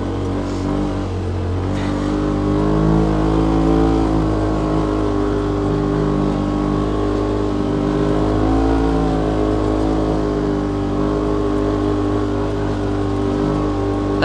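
A 2018 Polaris RZR XP Turbo side-by-side with a dual-outlet Bola muffler runs loud and steady for the whole stretch, its engine droning and revving in a continuous, harmonic-rich tone with gentle rises in pitch, no talk.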